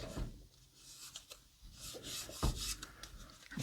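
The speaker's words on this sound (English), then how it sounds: "I'm just going to tape it in place so that when I tighten up those screws, everything should stay pretty much lined up." Close, quiet rubbing and scratchy handling as tape is pressed onto a model car build of the James Bond Lotus Esprit 'Wet Nellie', with intermittent short rasps and a soft tap.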